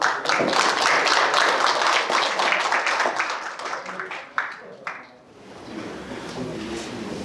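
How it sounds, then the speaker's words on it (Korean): Audience clapping at a Cheongsanri battle victory anniversary ceremony, lively for several seconds before thinning out and fading into quiet room noise. "축하의 박수 부탁드립니다"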